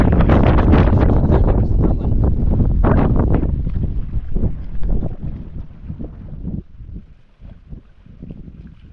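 Strong wind buffets the microphone in loud roaring gusts that ease and weaken toward the end, with rustling and knocking like a boat on the water.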